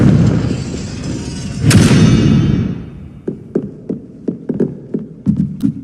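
A Confringo spell blast in Hogwarts Legacy erupts as a rumbling boom, followed by a string of sharp, rhythmic knocks and thuds that trail off one after another.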